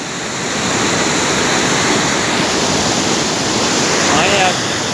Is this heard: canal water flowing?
yes